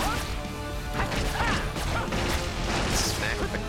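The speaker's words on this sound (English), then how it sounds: "Smack with the crystal." A crystal smashing into something in a video game, loud crashing whacks and cracks layered over busy game effects, with a voice talking beneath.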